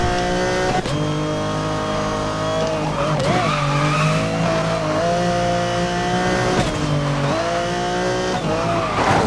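Race car in the Need for Speed Most Wanted video game, its engine droning and revving steadily while tires squeal and skid repeatedly across the run, loud and continuous.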